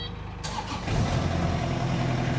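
A Kubota tractor engine cranks briefly and catches, settling into a close, steady rumbling idle inside a shed.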